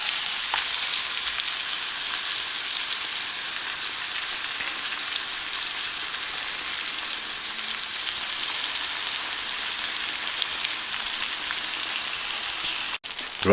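Chicken Madras curry sauce sizzles steadily in a hot pan, a continuous bright crackling hiss like light rain that holds at an even level throughout, with no voices.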